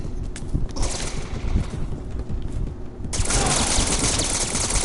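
Enemy gunfire in a Resident Evil game, a dense rattling burst of rapid shots that continues throughout and grows louder and harsher in the final seconds, with no talking.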